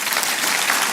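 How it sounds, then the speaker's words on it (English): A brief burst of audience applause at a talk, many hands clapping densely and loudly with no voices over it. "Please, another round of applause for her, please."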